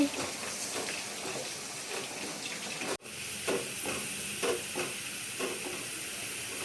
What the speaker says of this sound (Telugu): ఇప్పుడు వేడి వేడి ఆయిల్లో మనం ఇలా వేసి ఒక గంట తీసుకొని జాలర్ గంట ఇలాగ కలుపుతూ ఉంటే చిప్స్ రెడీ అయిపోతాయి